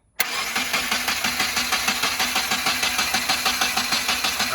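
A Subaru FA20DIT engine cranking over on the starter during a compression test on the driver's side bank, a sudden start into a steady, rhythmic whirring chug with evenly spaced pulses, loud and close with no talking.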